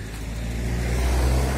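A car rolls past at close range on Solomiia Krushelnytska Street in Truskavets, a steady engine rumble and tyre hum that swells slightly as it goes by, with no voices.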